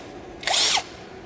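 A short burst of an STR cordless impact drill with a removable head whirring, rising and falling in pitch, loud and close, with quiet before and after.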